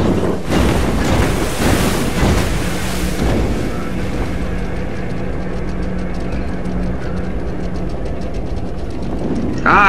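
A waterfall in Devil May Cry 4 roars as a loud, continuous rush of falling water that thins out toward the end of the stretch.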